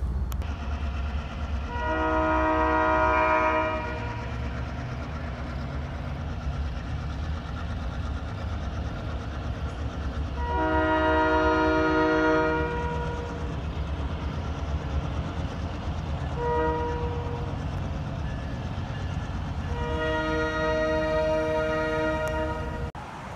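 A passing train sounds its horn in three long blasts and one short one over a steady rumble of rolling wheels, fairly loud and near, with no talk.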